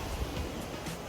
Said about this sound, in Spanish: a la orilla de la playa. Miren el mar.